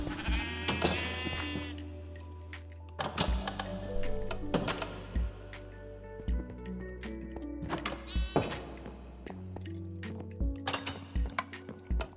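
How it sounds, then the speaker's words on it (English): Several sheep bleat in wavering cries in Minecraft, with clinks and soft thunks in between, sounding synthetic and gamelike. "let me feed the sheep first"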